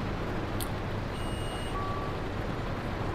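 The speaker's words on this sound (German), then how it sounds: "Ey, jetzt kann ich aber diesen Piepton auch gar nicht mehr überhören." Inside a Berlin city bus, a thin warning beep tone sounds briefly over a constant loud engine and road rumble, faint and partly buried in the noise.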